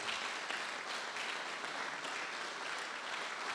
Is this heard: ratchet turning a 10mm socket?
no